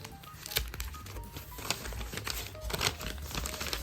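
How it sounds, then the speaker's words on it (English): A blind date book wrapped in paper is unwrapped one-handed, with close, continuous crinkling and tearing of paper that rises and falls in short bursts. "let's try to one-handed unwrap this"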